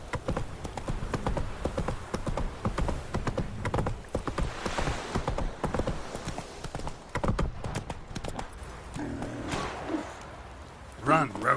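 Roach, the horse in The Witcher 3, gallops with rapid, rhythmic hoofbeats that keep up a steady clip-clop close by, broken by a short pause and a brief neigh-like call near the end.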